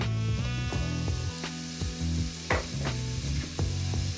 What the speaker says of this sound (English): We're going to let that onion saute for 2 minutes.